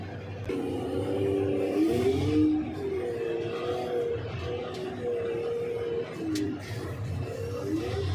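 Loaded Holpak mining dump truck at a limestone and dolomite mine drives off, its engine droning loud and steady from inside with shifting low tones and cabin rumble throughout.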